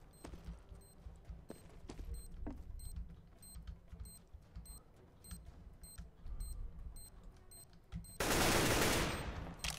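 Rapid AK rifle fire in Counter-Strike: Global Offensive, short bursts of sharp cracks in quick rhythm over background game noise, ending in a loud sustained blast of broadband noise like an explosion.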